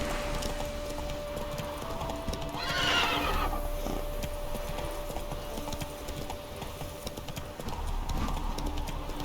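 Roach the horse in The Witcher 3 gives a loud, close whinny amid steady clip-clopping hooves and soft ambient game sound.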